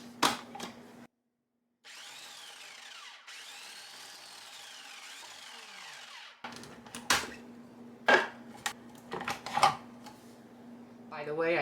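A food processor pulses a burger mixture in a few whirring bursts of about a second or more each, moderately loud and close, followed by clattering of the lid and bowl being handled.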